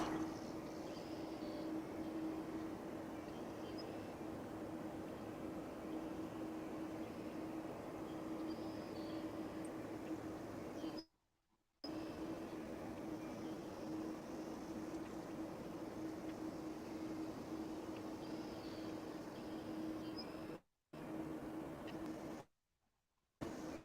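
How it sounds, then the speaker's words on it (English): Ground maintenance work at DFW Airport, a faint, steady droning machinery hum with a constant low tone, distant and continuous, cut by a few short gaps of silence. "You might hear in the background we do have some ground maintenance going on"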